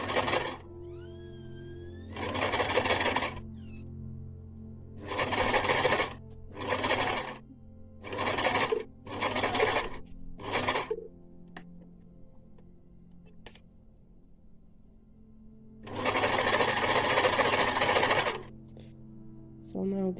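Sewing machine stitching a pleated face mask in a series of loud mechanical whirring runs, some short and some longer, separated by quiet pauses, ending with a long continuous burst.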